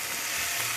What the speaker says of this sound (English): Now I put the chicken in the pot.